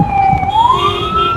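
Emergency vehicle siren wailing steadily and loud, its pitch sliding upward as it sounds continuously, passing along Queen Elizabeth Drive beside a park with cattle nearby.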